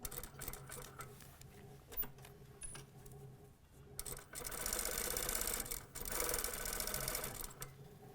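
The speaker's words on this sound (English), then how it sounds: "Start sewing." Sewing machine stitching zipper tape onto a vest front, a quiet rapid mechanical chatter with pauses, then a longer, louder run of fast stitching.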